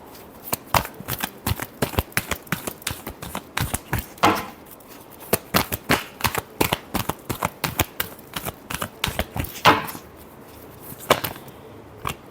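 Tarot cards are shuffled by hand in quick rapid riffles and cuts, a close, crisp flutter of repeated slaps with brief pauses between runs.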